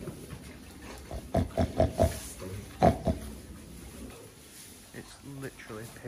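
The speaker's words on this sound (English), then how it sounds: "It's literally pig city here." Pigs at a farm park grunt and oink in a run of short, fairly close bursts, with a person speaking faintly in the background.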